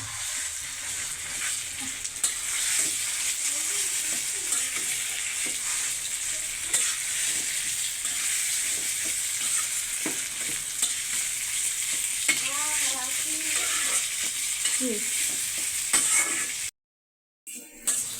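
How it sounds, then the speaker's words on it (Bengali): Mashed banana-peel paste frying and being stirred in a pan with fried dried chilies and onion for a mash, a steady close sizzle with scraping strokes throughout, briefly cutting out near the end. "বেটে রাখা কলা চুকলাটা দিয়ে দেবে"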